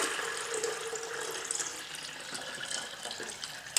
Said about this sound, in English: poured it into a tea kettle